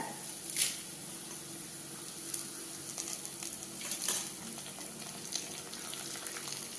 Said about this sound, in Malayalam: ഇഞ്ചിയൊക്കെ ഒന്ന് നന്നായി മൊരിയണം.